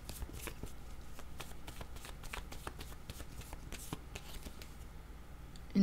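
Tarot cards being shuffled by hand, a steady run of crisp riffling flutters and light slaps, close and fairly quiet, with a louder bump at the very end.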